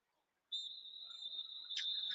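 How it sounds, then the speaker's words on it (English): At half time in a Liverpool versus Chelsea football match, the referee blows one long, steady, piercing whistle that rises from silence and is held for well over a second, thin and distant. "There is the whistle for half time"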